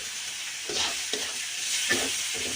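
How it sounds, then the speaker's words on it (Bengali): Beef fat frying over medium heat in a pan, a steady sizzle broken by several scraping stirs at an uneven pace, close and fairly quiet with no talking. "চর্বিটাকে তিন চার মিনিটের জন্য ভেজে নিতে হবে"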